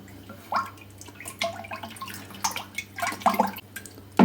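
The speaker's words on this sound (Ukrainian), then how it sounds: "І ретельно їх перемішуємо." Yeast is stirred into liquid in a container, producing close sloshing, splashing and dripping sounds in irregular bursts without talk.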